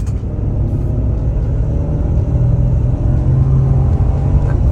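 A loud, steady Toyota Tundra pickup engine on 37-inch tires rumbles close by as it accelerates, a deep low drone that holds strong throughout with no talking.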